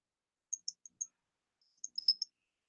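Keys tapped while typing Arabic on a computer keyboard, a few quiet, sharp clicks in two short bursts with a gap between, faint and without talk.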